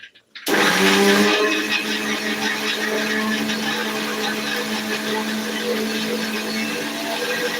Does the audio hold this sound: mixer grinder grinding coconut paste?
yes